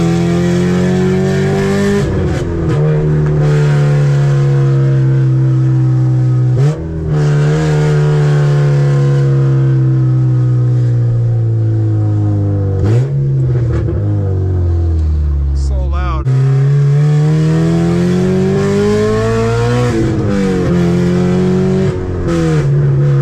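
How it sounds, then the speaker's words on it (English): A full bolt-on RSX Type S car engine idles and revs repeatedly up close, with a metallic rattle from a loose exhaust header flange, no exhaust fitted, riding over the exhaust drone. "you guys might hear some rattling going on, and it's because I don't have an exhaust"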